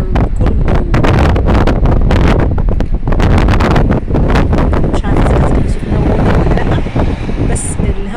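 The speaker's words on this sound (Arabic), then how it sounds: "يمكن حضراتكم سامعين صوت الهوا، شايفين الشجر كله." Strong gusty wind roars loud and continuous during a bout of severe weather in Marsa Matrouh, Egypt, buffeting trees and the microphone on a seaside corniche road, with someone talking throughout.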